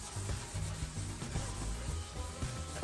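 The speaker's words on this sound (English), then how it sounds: "So you just scrub it hard" Someone scrubs a sink hard to remove limescale, producing a steady, close rubbing and scouring sound with no pauses and no talking.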